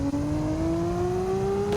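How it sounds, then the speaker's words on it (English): A JDM car's engine in a video game, set in Greenville, drones steadily with a rising whine as it revs up, loud and alone. "here's the engine sound."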